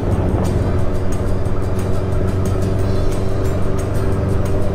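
A motorcycle engine drones steadily and loudly nearby throughout, with a low rumbling hum and no clear pass-by swell.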